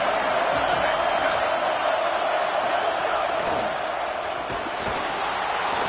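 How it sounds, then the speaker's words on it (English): A packed stadium crowd in the College Football 27 video game roars in a dense, continuous wall of cheering, loud and unbroken, with a play-by-play voice faintly under it. "This crowd ready to make its presence known."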